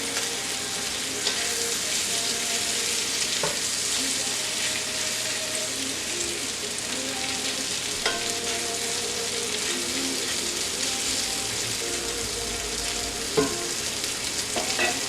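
Home fries with sausage and onions crackle and sizzle steadily in a hot cast iron skillet with oil and butter. Occasional clinks and scrapes come from stirring.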